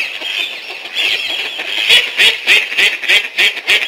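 A cartoon duck quacks in a rapid run of loud, evenly spaced nasal calls that grow more regular toward the end, with no talk.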